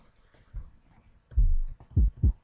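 Deep low-pass-filtered 808 bass from an LMMS trap beat, a few short booming hits, two close together near the end after a longer sustained note, loud and alone.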